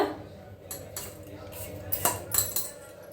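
Jaggery is added to wheat flour and mixed in a pot for khapli wheat kheer. A spoon makes scattered metallic clinks and scrapes, quiet at first, with a cluster of brighter knocks toward the end.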